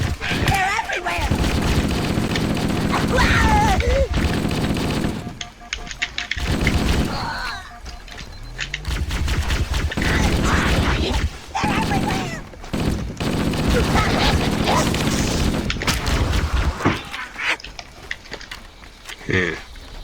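Repeated bursts of rapid gunfire and weapon blasts sound during a Flood mission in Halo: Combat Evolved (Master Chief Collection story mode). The shooting comes in loud clusters separated by brief gaps, with people talking over it.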